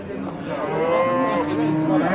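A cow at a livestock sale moos in one long, wavering call that rises and falls, close and loud against a low murmur of market background noise.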